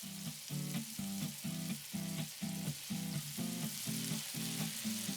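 Wine and white vinegar reducing in a pan, a steady bubbling sizzle with a rhythmic pulsing pattern repeating about twice a second, close and continuous.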